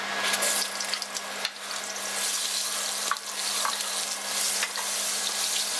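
Indonesian bay leaves and galangal root fry in hot oil over a spice paste, giving a loud, dense, continuous sizzle close up, with a few faint knocks from the pan.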